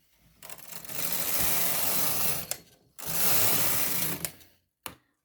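A Brother knitting machine's carriage sweeps across rows in two long, loud passes of whirring, ratcheting clatter, each ending with a clack, then a short final burst, with no voices.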